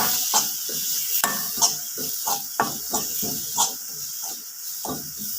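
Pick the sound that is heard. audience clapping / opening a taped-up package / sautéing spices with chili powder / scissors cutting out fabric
sautéing spices with chili powder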